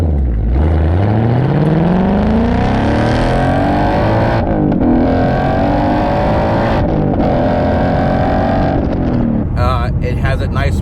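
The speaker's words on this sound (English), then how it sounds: "It has a nice muscle car classic noise." A deep, throaty muscle car exhaust on a Ford Mustang Mach 1 revs up and holds a loud, rumbling roar, not raspy, with brief drops between pulls, close and continuous.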